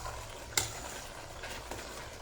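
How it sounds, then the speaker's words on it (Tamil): Soft scraping of a spoon stirring tamarind curry with coarse roasted salt in a pan over moderate heat, one sharp clink near the start, then quiet faint stirring with a light sizzle. "போட்டு நல்லா கிளறி விடணுங்க உப்பு கரைகிற வரைக்கும்"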